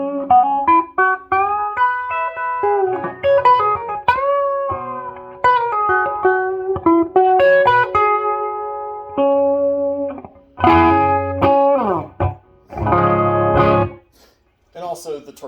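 Electric guitar played through a Plush 1060-S amp with a 12AX7 tube substituted on the channel, giving a feisty crunchy distortion; sustained chords and single-note lines ring out loud and close, ending in a few heavier strummed chords.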